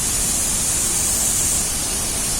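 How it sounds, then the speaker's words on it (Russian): A waterfall at Dray Nur in Dak Lak, surrounded by hexagonal basalt rock columns, roars nearby as a steady, loud, even wash of white noise that fills the whole clip without pause. "Водопад прямо рядышком"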